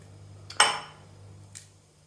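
A knife scraping chocolate for a peanut butter cup: one sharp, close scrape with a metallic edge, then a softer second scrape a moment later over a quiet hum.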